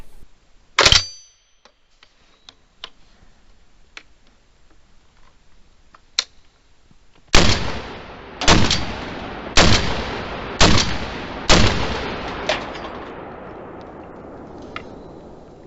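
A Rock Island Armory VR80 semi-automatic shotgun fires outdoors: one loud blast early, then a rapid string of five heavy, evenly spaced booms that leave a long fading echo, with a few light mechanical clicks between shots.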